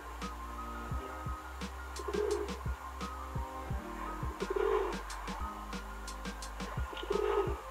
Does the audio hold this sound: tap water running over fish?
no